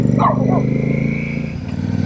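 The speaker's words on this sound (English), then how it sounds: "Hey, somebody's dog got loose." A loose dog gives a few short barks near a Royal Enfield motorcycle fitted with AEW exhaust pipes. The motorcycle's steady low engine drone runs loud underneath throughout, heard from the rider's position.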